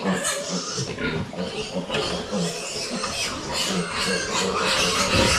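Piglets grunt and squeal while feeding in a crowded pen, a close, continuous overlapping chorus of short snorts and oinks with no pauses.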